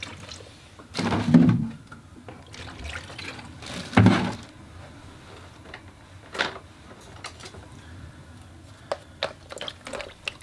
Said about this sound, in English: The only thing I have to do is empty my water bucket